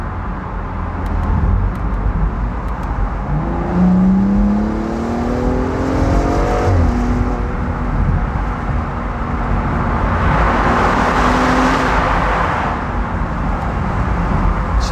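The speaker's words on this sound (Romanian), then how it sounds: "mi se pare că sună atât de bine, deci asta e esența acestui 6 cilindri în linie" A BMW M235i Cabrio's inline six-cylinder engine pulls through the gears in light traffic, a rising smooth tone with audible gear-change steps and steady road noise.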